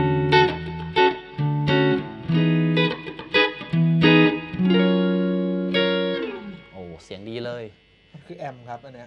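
Clean electric guitar through a NUX Amp Academy amp simulator picks separate notes and short phrases, then rings out into sustained chords with some bends near the end, close and unaccompanied.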